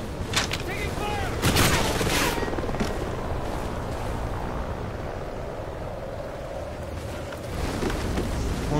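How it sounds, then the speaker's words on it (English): Gunfire in Call of Duty: Ghosts multiplayer, a few sharp distant shots early on, then a steady noisy rumble of battle ambience with muffled bursts, and a voice speaking over it. "Taking fire! Only got 10 rounds."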